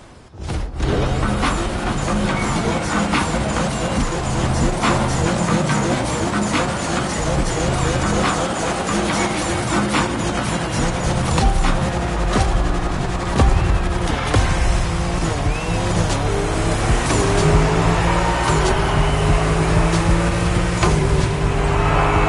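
A Liberty Walk car driven in The Crew Motorfest racing game, engine droning steadily and loud throughout with shifting pitch, mixed with game music or effects and occasional talk.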